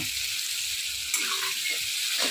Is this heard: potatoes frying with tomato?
yes